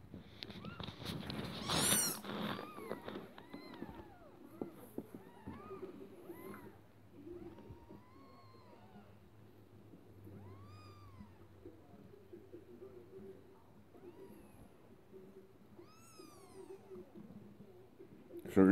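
One-day-old kittens from a litter of seven give many thin, high meows, overlapping and close, alongside their mother cat; a brief rustle starts the scene and a voice speaks softly at times.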